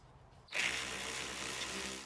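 A power tool runs continuously, close and steady, driving in the rear brake caliper bolts on a 2005-2009 Subaru Outback after new pads are fitted.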